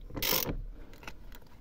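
A ratchet works the 24 mm steering wheel nut on an Alfa Romeo 156, giving a quick, close burst of clicking and grinding followed by a few fainter metallic ticks.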